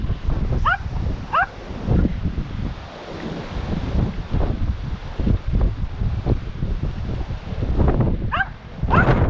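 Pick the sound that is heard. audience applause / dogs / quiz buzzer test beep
dogs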